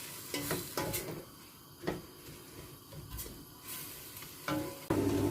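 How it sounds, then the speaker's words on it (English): Chopped vegetables sizzle and fry in a single pot of creamy vegan pasta sauce, a steady close hiss broken by scraping stirs and a few light utensil clicks. "fry that off until it's kind of cooked down a bit"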